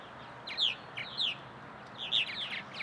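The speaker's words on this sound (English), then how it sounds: "We're here to look at our colony of purple martins." A colony of purple martins, native migratory songbirds, calls from a garden center nest site with a handful of faint, bright chirping phrases in quick pairs against a soft outdoor background.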